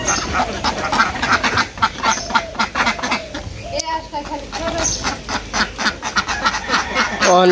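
Ducks, including large domestic ducks, quacking in a busy, repeated chorus close by in a village, with people talking over and around the calls throughout.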